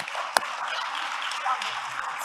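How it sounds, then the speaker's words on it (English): Audience at a breakfast symposium applauding the speakers: a steady patter of many hands clapping throughout, with one sharp louder clap near the start and a few nearby voices mixed in. "let's give a huge round of applause to our speakers"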